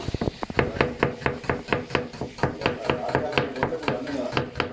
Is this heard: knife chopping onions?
yes